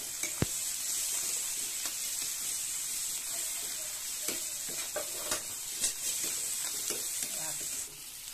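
Onions sizzle steadily in a pan for egg curry, stirred with intermittent scraping clicks over a constant hiss, close and moderately loud.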